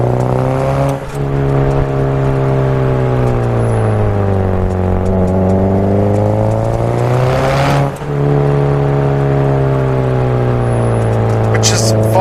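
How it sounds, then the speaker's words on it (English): A car on a test drive with its drivetrain under load gives a steady, loud engine and road drone with a tonal hum that rises and falls slightly, dipping briefly around the middle. "what I'm doing now is I'm just seeing if there's any whining noises in the drivetrain"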